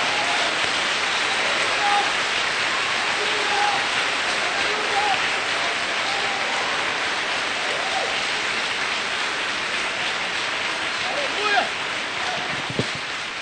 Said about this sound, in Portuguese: Se você quer, aplauda ao Senhor por isso, meu amado.